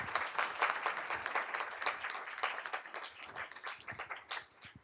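A school board meeting audience gives a round of applause, a moderate, fairly distant wash of many hands clapping steadily for several seconds before it begins to thin out.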